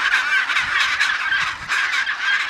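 Seabirds at a crowded nesting colony call loudly and continuously in a harsh, overlapping honking chorus, close and dense.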